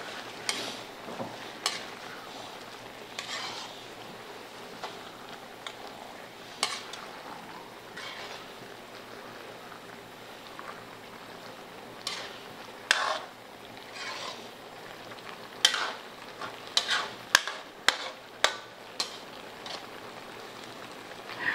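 Onion, tomato and mussels are stirred in a pan with vinegar and soy sauce for Bicol Express, giving a soft continuous sizzle broken by intermittent utensil clacks that grow busier toward the end.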